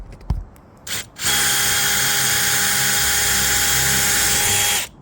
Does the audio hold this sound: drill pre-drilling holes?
yes